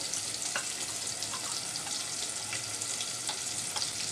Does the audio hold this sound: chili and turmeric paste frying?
yes